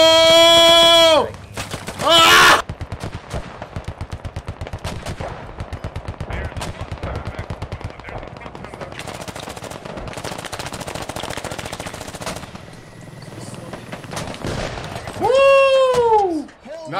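Gunfire crackles through a Squad video game firefight, long bursts of rapid automatic shots rattling on and off with loud whooshing effects at the start and near the end, and voices come through faintly among the shots.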